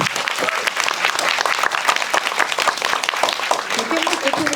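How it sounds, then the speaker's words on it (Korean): An audience at a film talk event applauds, with dense, lively clapping throughout and a voice briefly audible near the end. "박수 쳐주세요. 정말로."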